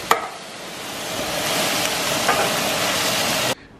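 Broccoli with tomato coulis cooks in a pan, a broad steady hiss and bubbling sizzle that swells slightly after a sharp clink at the start, then cuts off abruptly.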